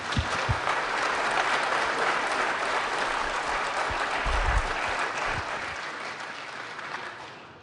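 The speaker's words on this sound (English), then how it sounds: "Well, everyone, give Graham a big round of applause." A round of applause from an audience at a Kansas City startup pitch gathering, steady dense clapping with a few louder close claps, sustained for several seconds before tapering off.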